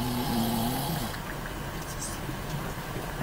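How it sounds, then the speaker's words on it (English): Steady low rumbling snoring from a man runs through the background, a constant droning breath sound with a faint hum and no clear talk. "If you hear snoring, it's my son in the background."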